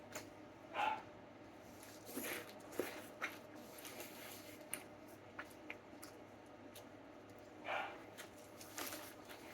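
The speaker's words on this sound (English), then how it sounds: "that's why you hear Clark barking" Two faint, distant dog barks, several seconds apart, over quiet background rustling and light clicks.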